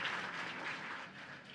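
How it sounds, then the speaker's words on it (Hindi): Audience applause at the Utsav 2015 cultural programme at Dev Sanskriti Vishwavidyalaya, Haridwar: a steady, faint wash of many hands clapping, heard from a distance without a break. "आप बाकी लोग तालियां बजाएं, तालियां, सिर्फ और सिर्फ तालियां इस प्रस्तुति के लिए"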